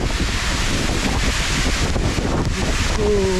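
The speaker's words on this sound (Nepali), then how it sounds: "वाटरफल यहाँनिर छ यु क्यान हियर इट" A steady, close rushing roar of Bar Changay Falls, a waterfall near Gangtok in East Sikkim, loud and continuous, with a faint tonal whine rising near the end.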